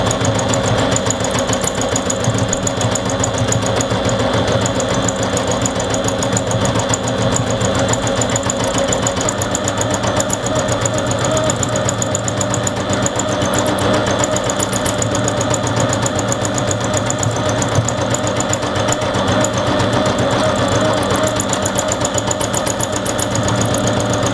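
A sewing machine runs continuously for free-motion embroidery with Cotona 30wt cotton thread on a felted landscape, a steady close mechanical whir and needle chatter with no pauses.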